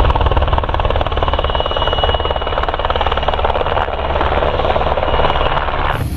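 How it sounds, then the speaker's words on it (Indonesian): An army helicopter drones steadily nearby, a continuous loud rotor and engine roar with a fine rapid chop, sustained without pause until a brief cutoff at the end. "Ada helikopter angkatan darat."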